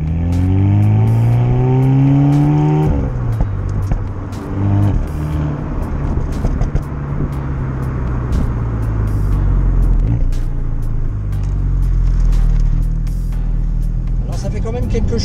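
A Renault Mégane RS Ultime revs hard on an open road, rising engine notes climbing through gears before settling into a loud in-cabin drone with further pulls, and talk over it.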